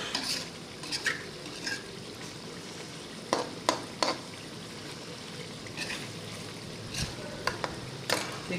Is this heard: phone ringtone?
no